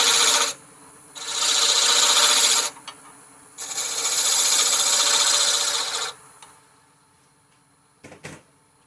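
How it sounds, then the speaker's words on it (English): A roughing gouge cuts a square wood spindle round on a lathe, giving two long loud rasping bursts of a few seconds each separated by quieter motor hum, then a few short clicks near the end. "I take my roughing gouge, and I go on and round that piece out right there"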